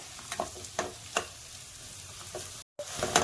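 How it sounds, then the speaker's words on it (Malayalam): Onions sautéing in a pan for Hyderabadi chicken masala, a soft sizzle broken by several scraping stirs at irregular intervals and a brief dropout near the end. "ഈ ഉള്ളി ഇവിടെ കിടന്നുകൊണ്ട് വഴന്ന് വരുമ്പോഴത്തേക്കും"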